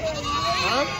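Goats bleating at a large sheep and goat livestock market in Telangana, wavering cries layered over crowd chatter and background voices, fairly close and continuous.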